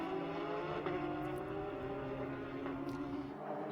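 Porsche GT race cars scream through a race at Sonoma, their engines droning steadily at a distance, with a couple of faint passing swells and no voices.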